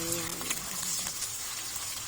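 Soy sauce, calamansi, garlic and black pepper marinated pork frying in a pan, a steady close hiss and crackle of sizzling oil with no talk over it.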